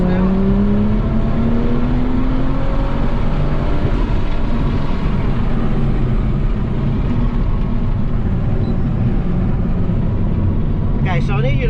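BMW M2 engine pulling hard on a race track at Florida International Rally & Motorsport Park, a loud continuous roar with rising tone under wind and cabin noise, while an instructor talks over it.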